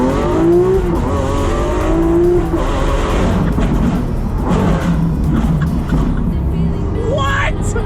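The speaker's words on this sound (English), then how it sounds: "that single clutch and that massive V12 is like nothing else" A Lamborghini Aventador SVJ with its V12 engine and single-clutch gearbox roars loudly up through the revs, with rising and falling engine pitch suggesting gear shifts. Heard close from inside or near the car, with no talk.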